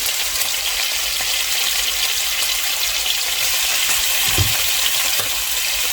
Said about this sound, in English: I take these meats and place them in the pan and fry them now